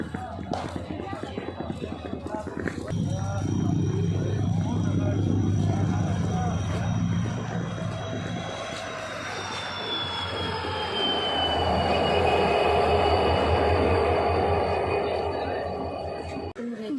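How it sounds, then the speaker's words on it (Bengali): At a crowded station a train pulls in, its heavy rumble and rolling clatter rising and holding, a high whine sliding down as it slows, while people talk nearby. "এই যে ট্রেন এ ঢুকে গেছে"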